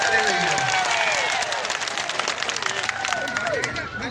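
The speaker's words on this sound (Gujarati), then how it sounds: "આપણે એમને જોરદાર તાળીઓના ગણગણાટથી એમનું સ્વાગત કરી રહ્યા" Crowd applause at an outdoor political rally, a steady wash of clapping sustained throughout with cheering and babble mixed in, and a voice rising over the noise.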